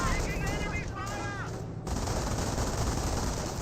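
Machine gun fire crackles steadily through a Company of Heroes battle, likely from an MG42, a dense continuous rattle running the whole time with a brief tonal whine partway through.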